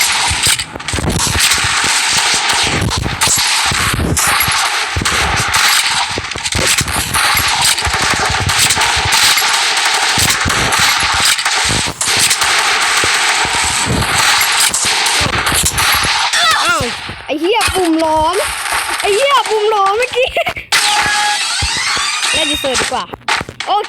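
Rapid sustained gunfire from a video game rattles loud and dense almost throughout, with brief gaps and a person's voice breaking through faintly toward the end.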